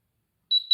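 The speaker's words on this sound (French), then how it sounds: "Alors j'attends le bip." An exercise timer gives two short, high electronic beeps, the second following closely after the first, sharp and clear against silence.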